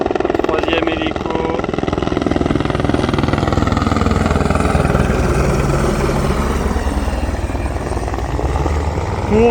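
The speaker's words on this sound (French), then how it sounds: "Troisième hélico." A helicopter flies close over a glacier, its engine and rotor a loud, continuous roar that holds steady for the whole stretch.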